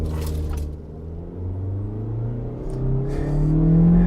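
A Toyota Corolla Cross with a CVT pulls hard from 0 to 60, a low steady engine drone and road rumble rising gradually in pitch and loudness, heard from inside, no talking.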